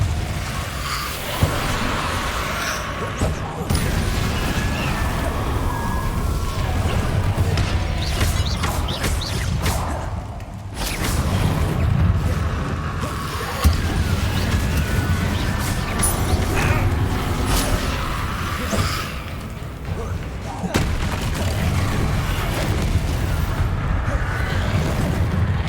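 Spell effects in Hogwarts Legacy, Confringo, Levioso and Depulso, fire off as a dense run of booming magical bursts and crashes over a continuous loud battle din, with several sharp impacts spread through the stretch.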